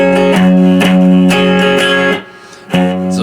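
An electric guitar strums a chord pattern, loud and close with rhythmic down-and-up strokes, briefly muted to near silence before the chord rings out again.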